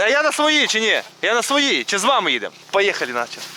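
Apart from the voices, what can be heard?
No everyday noises stand out.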